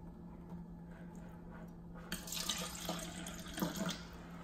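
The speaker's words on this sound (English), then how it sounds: "Let's pour some water in." Famous Ramona distilled water poured from a bottle into a small plastic test cup, a soft trickle that becomes a fuller splashing gush partway through, close and fairly quiet, with no speech.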